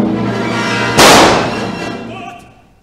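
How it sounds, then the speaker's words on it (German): A single sharp, loud gunshot rings out during a German-language 1960 Staatsoper Berlin staging of Verdi's opera Don Carlos. It bursts over sustained orchestral music and then decays slowly. "Gott, ein Schuss!"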